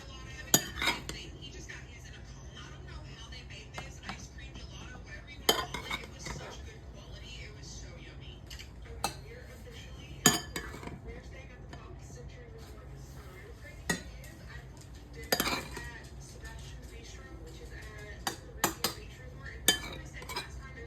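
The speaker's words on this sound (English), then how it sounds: "Let's plate my kids' dinner." Dishes and cutlery clinking while a toddler's dinner of green beans and homemade potatoes is plated, sharp scattered clinks and scrapes over quiet room tone, with soft talk in between.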